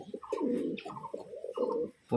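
A female Giribaz pigeon cooing close by, three low throaty phrases in a steady rhythm with brief pauses between them.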